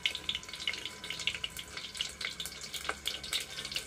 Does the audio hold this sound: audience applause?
no